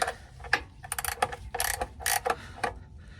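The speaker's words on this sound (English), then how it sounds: "Then we take our wrench." A ratchet wrench loosens the oil drain plug on a 2023 Dodge Ram BigHorn, producing close, quick bursts of clicking separated by short pauses.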